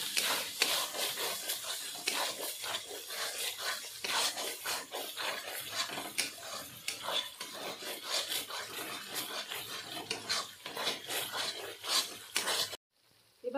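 Chili powder, turmeric and spices being stirred and fried in a pan for potato curry, a steady run of scraping and rubbing strokes with faint sizzle, close but soft, with no talk.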